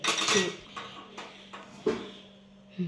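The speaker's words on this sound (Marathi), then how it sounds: "आता कढई ठेवायची गॅसवर" A few scattered metallic clanks and knocks as a wok is set down on a gas stove, with quiet gaps between them.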